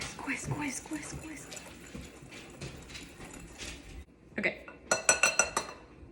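Cake batter being whisked in a bowl, with clinking strokes of the whisk against the bowl that grow sharper and faster near the end, after a person talks.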